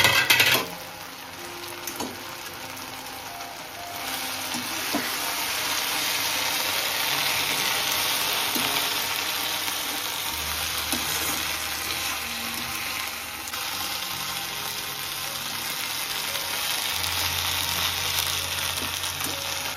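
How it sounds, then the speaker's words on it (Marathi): Fried mackerel pieces are stirred into sizzling chilli in a pan, a steady close frying hiss running throughout with occasional soft scrapes and clinks of the spoon against the pan. "चला आता आपण पीस ऍड करू फ्राय केलेले. मिक्स करून घेऊ."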